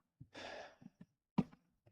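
An indoor pet snores with one long breathy exhale, followed by short soft snorts and a sharper nasal snuffle, close and fairly quiet.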